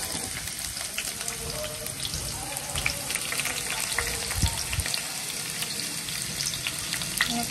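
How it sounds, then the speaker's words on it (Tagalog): Garlic and onion sauté in a pan with a loud, busy frying crackle and bursts of stirring scrapes, continuous and close with no voices. "lagay na natin guys yung bawang at sibuyas"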